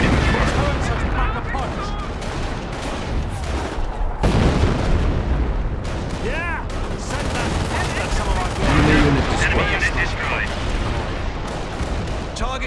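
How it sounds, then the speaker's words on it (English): Booming howitzer artillery fire and gunfire in the Company of Heroes video game, repeated heavy blasts and sharp shots spread across the battle, with soldiers' voices talking amid the din. "Target my smoke and fire the howitzers."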